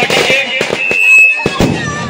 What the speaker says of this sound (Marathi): फटाके लावा